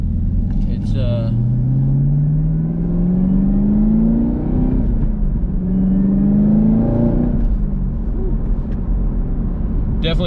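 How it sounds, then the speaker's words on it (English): A supercharged Chevrolet Camaro 2SS engine pulls hard under acceleration with a loud, rising supercharger whine over a deep rumble. The whine climbs twice, first for about five seconds and then again after a brief ease-off, steady and close throughout. "You can't miss that supercharger whine, and it pulls really hard"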